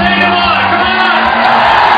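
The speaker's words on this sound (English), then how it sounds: "The crowd are really behind her here." A packed crowd at a women's bouldering World Cup final in Vienna roars and whoops for a climber on her last attempt, loud continuous cheering and shouting with no break.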